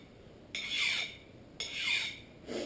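Two rasping strokes of a sharpener drawn across a tool's cut edge, each a bright scraping swipe lasting about a second, close and clear with no talk.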